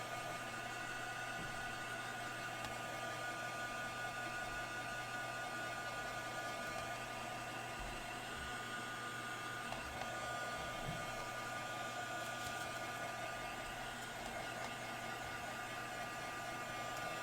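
A hair dryer blows on fresh paint, giving a continuous, steady whooshing roar with a low motor hum that stays even and unbroken from start to finish.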